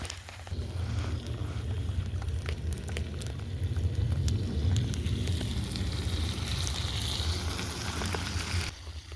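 Food cooking over an open campfire, with a steady crackling sizzle and fire hiss running continuously for several seconds, no talk over it.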